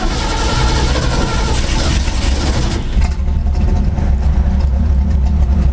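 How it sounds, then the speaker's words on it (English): A Ford F100 pickup that has sat unused for about a month cranks and runs, a loud, close engine roar that settles into a steady rumbling idle, with no talk over it. "Let's see if this thing even starts."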